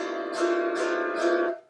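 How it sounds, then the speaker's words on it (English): Three sweeping strums on an autoharp ring out over a sustained, shimmering chord, dark and haunting in tone, each swell rising and fading in a slow rhythm. "scary movie auto harp"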